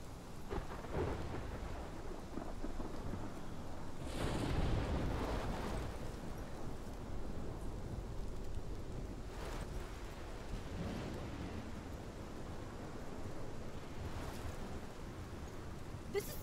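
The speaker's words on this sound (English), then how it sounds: "This is my storm." Thunderstorm in the video game Life is Strange: steady heavy rain with repeated rolling thunder rumbles, one loud near crash early and softer distant peals later, without talk.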